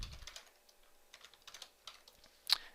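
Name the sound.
typing on a computer keyboard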